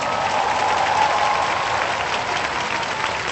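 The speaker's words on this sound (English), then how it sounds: "another round of applause for our NS men" A large audience at the 2017 National Day Parade claps for national servicemen, producing dense, steady applause that holds evenly throughout at a loud level.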